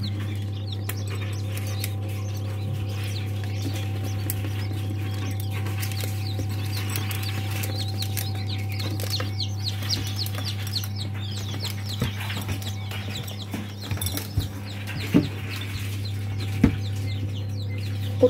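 Chinese quail chicks and one Spanish chick in a warm brooder chirp softly and continuously, with scattered peeps over a steady low electrical hum.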